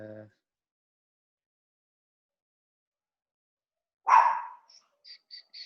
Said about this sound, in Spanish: Mientras silencio a mi perro también